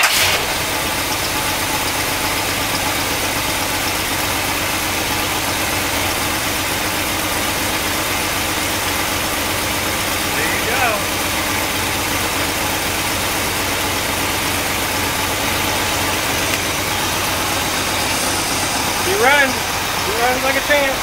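A 1964 Cadillac engine, fresh ignition points just fitted after years sitting, idles steadily and loud throughout, with a constant mid-pitched running drone and a few faint clinks near the end.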